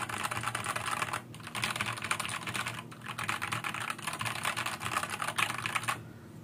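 Fast, steady typing clatters on a Deep Cool KG722 mechanical keyboard up close, dense keystrokes with two brief pauses, ending abruptly.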